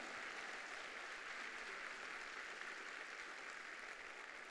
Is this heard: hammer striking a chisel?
no